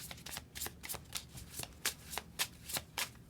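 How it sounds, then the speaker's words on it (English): Tarot cards being shuffled by hand, a quiet series of crisp riffling bursts at a roughly regular pace, close and soft with no voice over them. "So let's pull 3 cards and see what are the supporting messages."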